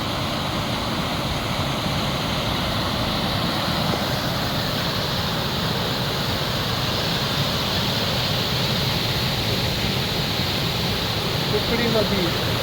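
The Kukdi river at its source rushes in a strong, steady roar of flowing and falling water, loud and continuous throughout, like a waterfall close by.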